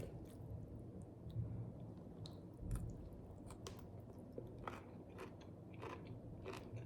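Soft, close chewing of a fish taco with black beans and lime, moist squishy bites and faint crunches coming in an uneven rhythm, quiet and with no talking.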